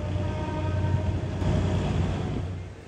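General Electric diesel locomotive switching train cars in downtown Bangkok, Thailand: a steady low engine drone with faint tonal hum above, swelling slightly midway and easing off at the end, with no talk.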